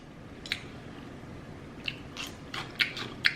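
Someone eating kimchi, a fermented cabbage, up close. A few sharp, crisp bites and wet chews come in irregular bursts over a quiet background, with no talk.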